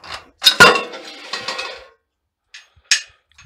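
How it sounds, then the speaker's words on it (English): Metal Stirling engine parts clink and clatter as a bolt is pulled free, a cluster of sharp close metallic knocks followed by a few lighter isolated clinks after a pause. "Just pull this bolt out now."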